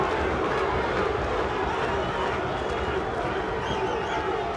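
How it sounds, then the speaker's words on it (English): Boxing arena crowd yelling and roaring in a dense, continuous wash of voices during the final minute of the first round of Tommy Morrison's fight, loud and sustained throughout. "Crowd yelling Duke."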